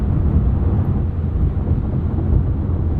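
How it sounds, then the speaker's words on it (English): Steady wind and road roar inside a 2022 Porsche 911 Carrera with PDK while driving, a constant low broadband rush filling the cabin without talk. "A little bit less wind noise in this base Carrera than what I've noticed"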